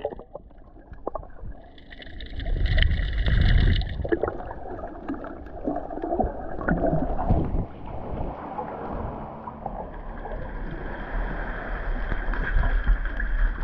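A small boat moves slowly into a sea cave beneath Fort Saint Angelo in Malta, with water sloshing and gurgling against the hull, wind buffeting the microphone, and a steady close rumble throughout.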